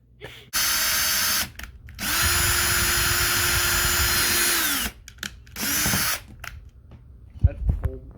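A power drill whirs in three bursts while drilling holes for a hamster bin cage, close and loud, the longest several seconds, with short gaps and a clunk of handling at the end.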